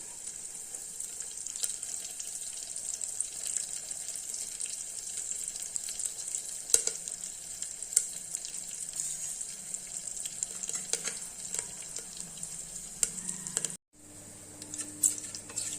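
Ginger and curry leaves sautéing in a pan, a steady hiss of frying with light stirring scrapes throughout, cut off abruptly near the end by a brief quieter stretch.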